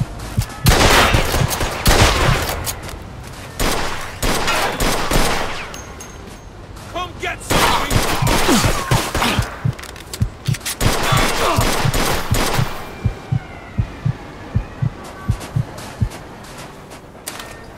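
Gunfire in Mafia II: Definitive Edition, loud dense bursts of automatic fire in long volleys, then a string of single sharp shots spaced apart toward the end, with shouted voices between.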